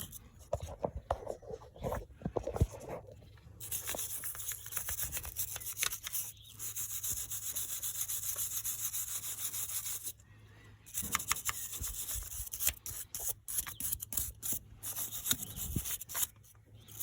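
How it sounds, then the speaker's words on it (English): A small wire brush scrubs a Triumph Spitfire engine in place, producing bursts of scratchy, rasping strokes, some rapid and some sustained, separated by short pauses. "Get my small wire brush on there."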